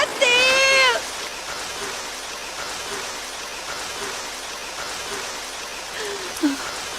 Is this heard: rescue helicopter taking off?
no